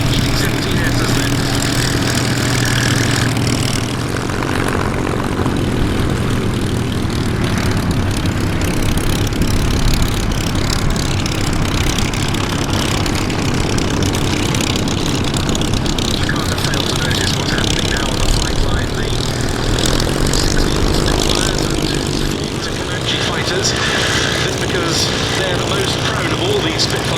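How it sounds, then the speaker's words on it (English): Two Beech D-17S biplanes at the Duxford airshow, a steady, loud radial-engine drone holding throughout, with a commentator talking over it. "Two Beech D-17Ss then."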